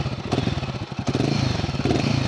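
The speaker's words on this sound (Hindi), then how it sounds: "तो ये मतलब तो this is the exhaust note." A Royal Enfield Guerrilla 450 motorcycle's exhaust thumps in a fast, pulsing beat, loud and close, rising briefly with a bit of mechanical clatter over the rumble.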